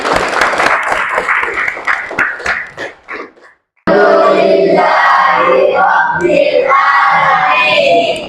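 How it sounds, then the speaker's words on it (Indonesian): A mathematics class applauds for about three seconds, a close, fairly loud patter of hands that fades into a brief silence, followed by the group's voices rising together. "Tepuk tangan dulu untuk semua."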